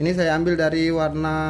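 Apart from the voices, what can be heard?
No distinct noise like a dog, phone or traffic.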